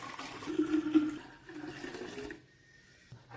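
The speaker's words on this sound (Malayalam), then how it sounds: "അതിലേക്ക് നമുക്ക് ഈ ബീറ്റ്റൂട്ടിൻ്റെ ജ്യൂസ് ഒഴിച്ചു കൊടുക്കാം." Beetroot juice poured into a jar for homemade beetroot wine, making a steady, close liquid gush and splash for a couple of seconds before stopping, with a faint knock at the end.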